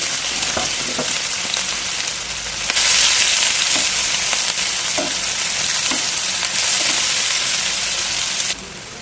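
Onions, green chillies and cumin seeds fry in oil, a loud close sizzling hiss that swells partway through, with intermittent spatula scrapes and taps, no speech.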